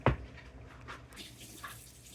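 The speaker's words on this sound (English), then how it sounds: "Put in water." Water pours into a pan holding a single layer of pasta over low heat, a brief splash followed by a soft, steady trickle at close range.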